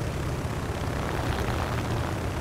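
A Fokker propeller airplane in the combat flight game War Thunder drones with a dense, steady engine roar, loud and unbroken throughout with no talking.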